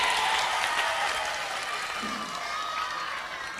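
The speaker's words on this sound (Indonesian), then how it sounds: "Tepuk tangan untuk regu B." Audience applause at a religious lecture, a steady dense clapping from a crowd that stays loud and even for several seconds, with a faint voice near the end.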